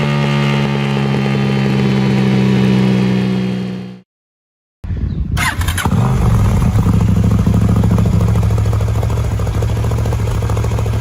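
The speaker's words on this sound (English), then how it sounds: "Austin Racing exhaust systems are beautiful, often small but very roaring." A loud KTM Duke 890 R motorcycle engine with an aftermarket Austin Racing exhaust roars with a throaty, rumbling note, cuts out briefly, then restarts and runs steadily with deep revving.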